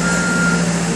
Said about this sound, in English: they have a bulldozer out here picking up a lot of the debris from the construction